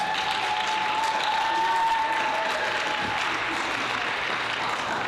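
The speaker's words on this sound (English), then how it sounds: "Give them a round of applause." An audience at a local history presentation gives a round of applause, a loud, continuous clatter of many hands sustained for several seconds, with some faint voices beneath it.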